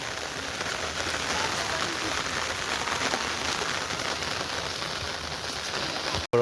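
Steady rain falling, a dense continuous patter on surfaces nearby at an even moderate level, ending with a brief gap and a sharp knock.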